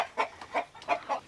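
Backyard hens and a rooster clucking near a coop, four short, fairly loud clucks in an uneven rhythm close by, with no talk over them.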